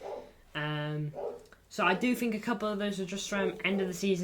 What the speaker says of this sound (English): Apologies for my dog, I am really, really sorry.